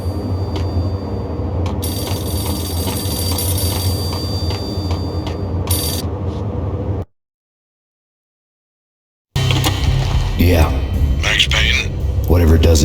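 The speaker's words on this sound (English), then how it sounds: "The payphone started to ring." A payphone rings in the video game Max Payne, with steady repeated electronic bell tones over a dense game backdrop, a short silent gap, then the ringing resumes under a voice.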